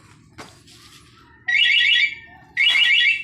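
A Raider 150 Fi motorcycle security alarm blares in two loud warbling bursts, each about half a second long, after a soft click and some quiet background noise.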